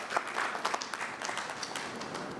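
An audience applauds at the unveiling of VULTe by Polaris Bank, a steady dense patter of many hands clapping close by that fills the whole stretch.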